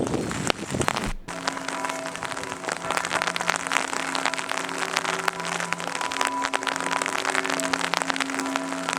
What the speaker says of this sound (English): I hope you can see how is the rain coming